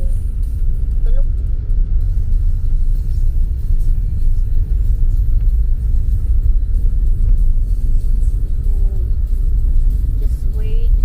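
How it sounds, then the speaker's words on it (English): Road traffic rumbles as a continuous, loud low drone of cars, steady and unbroken with no distinct passes standing out. "it's so traffic right now"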